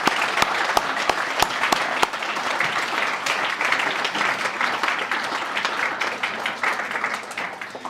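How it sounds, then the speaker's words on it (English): Audience applause at a regional volunteer awards ceremony in the North East, steady dense clapping from a full room with a few sharp nearby claps at the start, fading slightly at the end. "Give me a big applause."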